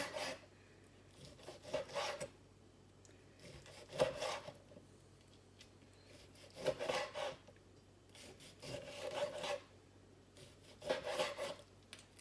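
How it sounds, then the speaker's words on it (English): A knife slices cooked medium-rare steak into thin strips on a board, with soft rasping strokes coming in repeated bursts about every two seconds, quiet and close, with no talk. "So I'm just going to cut it into some real thin strips."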